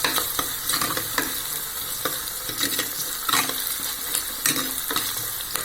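Ingredients for a curry sizzle as they sauté in a pan, a steady frying hiss broken by regular clicks and scrapes of a stirring spoon, with no one talking.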